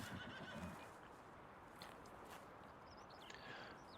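Horses neighing in a pasture in Farming Simulator 19, a gray and a brown horse, heard as a faint whinny with soft hoof clip-clops over a low, steady rumble of game ambience.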